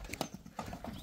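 Hooves of a Don breed horse clip-clop in a few distinct, close steps, fairly faint and with no voices over them.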